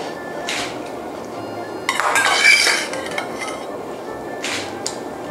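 Pork bones put into a pot of water for a pork rib and bamboo fungus soup: a few clattering knocks and clinks of bones against the metal pot, one longer rattling burst in the middle, close and fairly loud.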